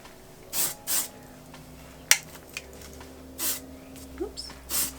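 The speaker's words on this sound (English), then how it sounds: "I'm gonna take the spray." Short hiss bursts of hair spray from an aerosol can, about six quick sprays in an uneven rhythm, close up, with faint handling clicks and a low background hum.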